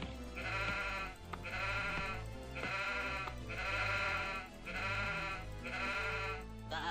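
Sheep in the real-time strategy game Warcraft 2 bleat when clicked, a series of repeated game bleats in steady bursts over a continuous musical background.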